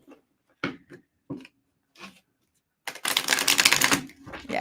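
Tarot cards are handled in a few brief, separate taps and flicks, then shuffled in a dense, crisp riffle close to the microphone.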